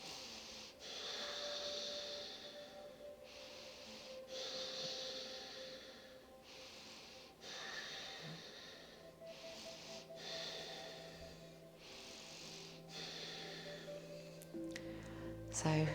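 Slow, deep yoga breaths held through an Ashtanga standing balance pose, about five long inhale-exhale cycles of airy, steady rushing at close range, evenly paced with no talking.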